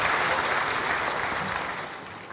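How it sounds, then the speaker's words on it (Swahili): Members and fans of the Young Africans football club applaud at a club gathering, with a steady, dense wave of clapping that fills the whole moment and slowly fades toward the end. "Tujipigie makofi wanachama na mashabiki wa Africans."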